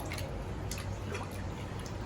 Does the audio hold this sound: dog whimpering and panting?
no